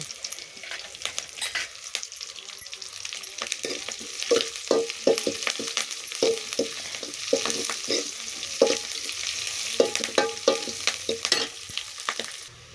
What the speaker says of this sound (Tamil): வெங்காயம் போட்டுட்டேன். கறி மசாலாவும் போட்டுவிட்டேன்.